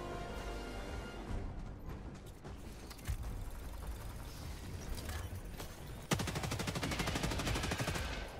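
Gunfire in the video game Helldivers 2 sounds during a fight with bugs: rapid automatic bursts and single shots, with a louder, denser stretch of fire near the end.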